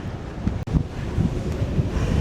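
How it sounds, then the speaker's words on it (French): Strong coastal wind buffets the microphones, a loud, continuous rumbling roar with gusty bursts and one brief dropout. "Il y a du vent, hein. Je ne sais pas comment ça donne avec les micros, mais ça donne."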